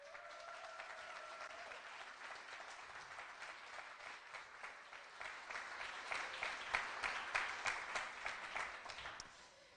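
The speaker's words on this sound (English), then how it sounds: "Let's start with a huge round of applause to congratulate and encourage them this evening" An audience's round of applause at a coding bootcamp demo day in Montreal, a full crowd of hands clapping steadily for about ten seconds, swelling toward the end with rhythmic group clapping emerging.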